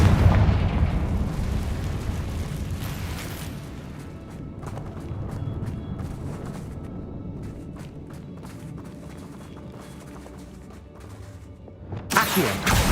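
In the Hogwarts Legacy video game, a Confringo fire spell erupts in a deep rumbling blast that fades into crackling debris, with another sharp burst near the end.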